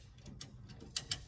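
Chain hoist being cranked to lift a truck radiator, a few quiet metallic ratchet clicks, irregular and close, with two sharper ticks near the end.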